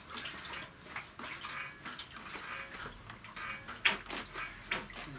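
Fork oil draining out of the front forks of a 1981 Honda CB250N Superdream onto paper, quiet irregular trickles and drips with a few sharper splashes.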